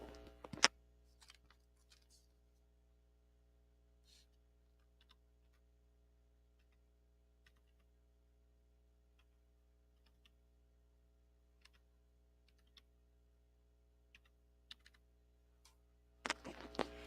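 Sparse, faint key taps on a computer keyboard as data is entered into an online graphing calculator, with a few louder clicks at the very start and end and long quiet gaps over a steady low hum.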